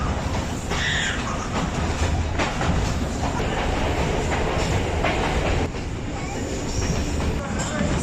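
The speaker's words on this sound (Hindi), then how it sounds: "लासानी एक्सप्रेस अब गुना कलां रेलवे स्टेशन पर अप्रोच कर रही है।" The Lasani Express approaches Guna Kalan railway station on the Narowal to Sialkot line with a loud, continuous rumble and rattling clatter of wheels and carriages, as heard from on board, plus faint squeals and bird calls.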